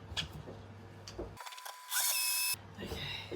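A blender whizzes up a berry protein smoothie with spirulina in a loud, steady burst of about half a second, set between quieter kitchen handling noises.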